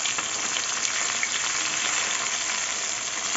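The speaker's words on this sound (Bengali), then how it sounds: "মাছগুলো দুটি লাল লাল করে ভেজে নেবো" Pieces of rohu fish fry in hot oil, producing a loud, dense, continuous sizzling hiss at close range that stays steady throughout, with no speech.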